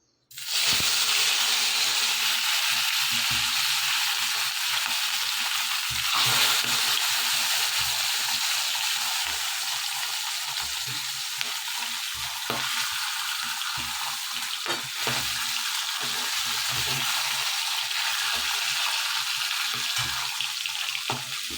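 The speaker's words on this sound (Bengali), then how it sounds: "এবার আমি মাছ দুটোকে ছেড়ে দিই তেলের মধ্যে ভাজার জন্য।" Two bata fish fry in hot oil, giving a loud continuous sizzle and crackle with bubbling hiss and a few stirring scrapes, close by and with no talk.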